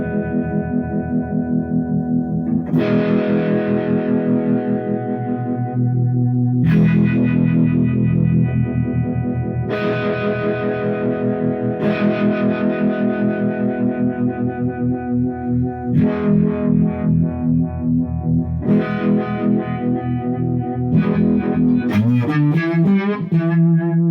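Electric guitar played through a Moen Jimi Nova univibe-style pedal, loud and alone, with sustained chords swirling in a throbbing, phase-shifting sweep, several strummed chords ringing out in turn before a quick run of notes at the end.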